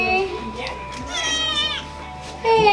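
A young female kitten meows several times at close range, the calls rising and falling in pitch, mixed in with people talking.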